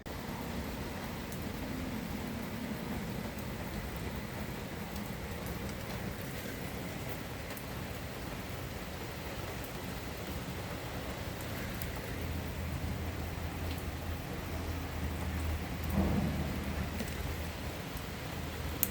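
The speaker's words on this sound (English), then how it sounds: "It's raining a lot." Steady heavy rain pours down continuously outdoors, a dense even hiss with a slight swell near the end; no distinct thunder claps stand out.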